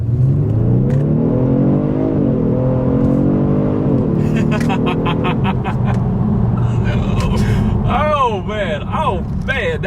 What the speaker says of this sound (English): let's do a quick little acceleration, letting the car do the shifting